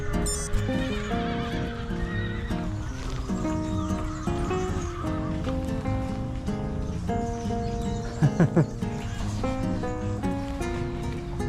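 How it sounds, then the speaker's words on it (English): Several horses on the Costa Brava whinny and neigh repeatedly amid hoof clip-clops and general bustle, with faint voices in the background. "Seem to be horses everywhere here"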